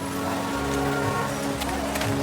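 Rain falls steadily on wet pavement on a dark night in the video game World of Goo 2, giving a constant dense patter under a low droning hum, fairly loud and unbroken throughout.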